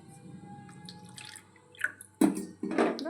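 Water, about one and a half cups, is poured into a kadai while preparing pappu chegodilu dough, heard as a quiet trickle followed by two louder splashing bursts near the end.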